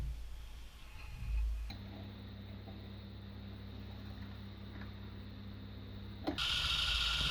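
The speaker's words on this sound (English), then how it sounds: "this is my first ever operation in a lathe" A 1920s IXL lathe cuts aluminum with a high-speed steel tool. A steady whirring hum with a thin high whine holds for several seconds, then a harsher, brighter cutting noise comes in at the end, with no talking.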